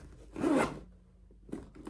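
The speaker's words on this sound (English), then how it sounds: "You zip it up like this," A tote bag's zipper is pulled shut in one quick, close rasping stroke, followed by a short pause and the start of another zip.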